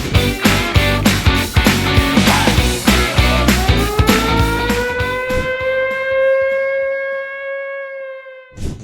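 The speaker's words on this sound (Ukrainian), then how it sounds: "Дві години майже тривала повітряна тривога тут у Чернігові" An air raid siren wails over Chernihiv, its rising tone swelling loudly and then sustaining and fading, mixed early on with rhythmic thumping sounds before trailing off near the end.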